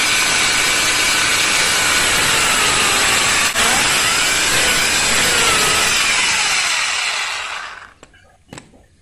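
A power drill bores holes in one long, steady, high-pitched whine that dips slightly midway, then winds down near the end, leaving a couple of faint knocks.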